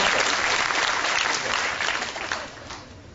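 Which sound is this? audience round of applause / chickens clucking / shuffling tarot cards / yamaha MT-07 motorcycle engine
audience round of applause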